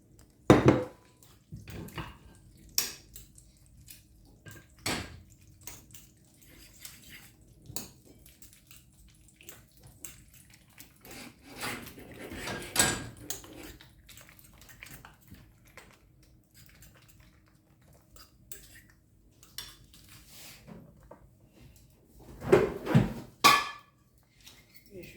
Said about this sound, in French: Je vais mélanger mes œufs avec les patates.